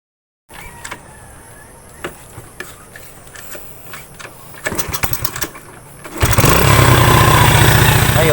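Small gasoline engine cranked and fired up during carburetor tuning, with the mixture screw turned richer: faint clicks and bursts, then at about six seconds it catches and settles into a loud, steady close-up running drone.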